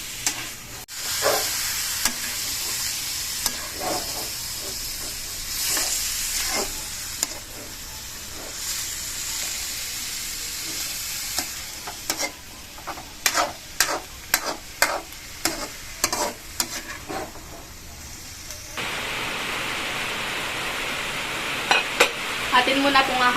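Liver dish (higado) frying in a pan and being stirred, with repeated scraping stir strokes over a steady sizzle, sharper stirring clatter near the end and a hissing burst late on.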